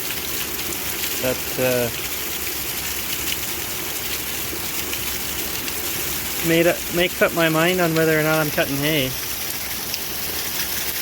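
Steady rain falls on a hay farm, a dense even hiss of drops running through the whole stretch, with someone speaking briefly near the start and again toward the end over it.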